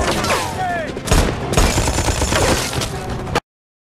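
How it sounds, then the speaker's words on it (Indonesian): A film shootout plays out as dense, rapid bursts of gunfire and loud booms mixed with a chaotic scraping action soundtrack. It stays loud throughout, then cuts off abruptly. "terjadi adu tembak antar Bishop dengan Das dibantu anak buahnya"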